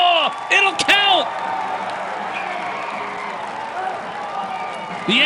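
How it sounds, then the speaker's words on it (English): A sold-out crowd at a college lacrosse game between Virginia and Notre Dame at Arlotta Stadium cheers and applauds a goal, a broad, sustained roar under a commentator's voice, with brief whistle-like tones at the start and end. "it brings a standing O from the sold-out crowd here at Arlotta"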